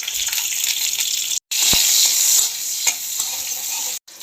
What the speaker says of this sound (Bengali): তো ফোড়নটা ভাজা হয়ে গেছে